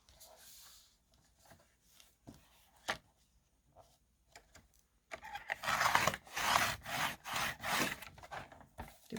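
Paper being cut for collage journal tags: a quiet opening of soft scattered snips and rustles, then several seconds of louder, rapid scraping cuts in close succession, heard close up with no talking.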